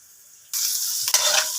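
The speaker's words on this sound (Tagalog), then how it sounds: "igigisa natin siya sa sibuyas at bawang at" Chicken hits hot oil with onion, garlic and ginger, breaking into a sudden loud sizzle after a quiet moment, with a brief stirring scrape partway through as the frying hiss continues.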